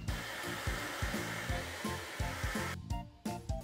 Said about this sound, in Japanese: よし、ちょっとドライヤーしていきます。